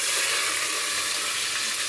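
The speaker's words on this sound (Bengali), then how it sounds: "পোলাও রান্না করতেছি" Pulao rice fries in a pan in a small kitchen, giving a dense, even hiss of sizzling that holds steady and close for a couple of seconds with no talk.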